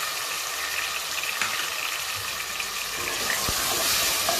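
Tomatoes fry in a pan with green chili, red chili and turmeric for a mixed vegetable dish, giving a steady, close sizzling hiss that runs evenly throughout with no talking.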